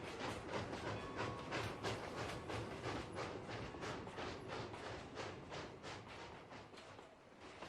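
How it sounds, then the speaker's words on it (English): A Bachmann plastic model Rio Grande narrow gauge mogul locomotive pulls a short freight across a high trestle bridge, a continuous rhythmic clickety-clack and rumble of small wheels, faint and steady throughout with no voices. "The Rio Grande narrow gauge mogul trundles over a high trestle bridge with a short freight."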